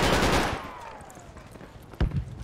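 AK rifle fire in an online shooter game: a burst of rapid shots up front that fades into a ringing tail, then one sharp loud crack near the end, with no talk.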